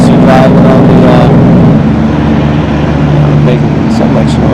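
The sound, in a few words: trucks driving past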